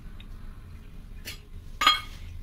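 A metal lid and a weight set on top of a biryani pot, giving two or three short clinks and a sharper metallic clank near the end against a quiet kitchen background.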